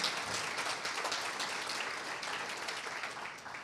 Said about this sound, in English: give our staff a round of applause and our consultants a round of applause